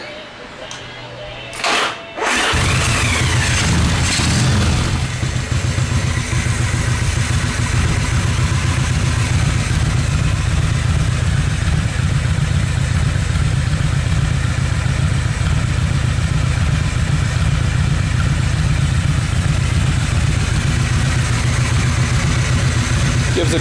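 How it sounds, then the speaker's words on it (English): A Yamaha XV1000 V-twin motorcycle running on a single carburetor starts up after a few clicks, then settles into a loud, steady, close idle with a staccato beat that continues without a break. "Fire the bike up here and let you listen to it."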